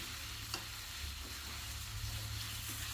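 Mutton curry being stirred in a pan for a Telangana-style dish, a soft steady sizzle with faint scraping strokes of the spoon at a low, even level and no voices.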